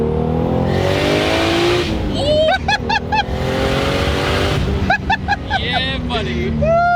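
A 2JZ-swapped Lexus IS300 revs hard with turbo boost, loud and close, in sustained pulls broken by quick blips and falling whooshes, with people talking over it.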